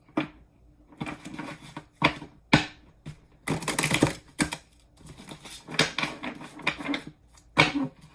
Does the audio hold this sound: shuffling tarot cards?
yes